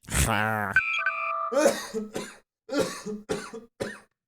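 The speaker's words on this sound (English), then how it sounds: "Lots of coughing." Several sharp, close coughs in quick bursts, with a brief electronic tone partway through and short pauses between the later coughs.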